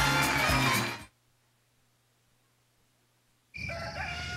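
A rooster crows loudly in a NyQuil cold-medicine TV commercial, a brief burst that cuts to near silence before another loud sound starts.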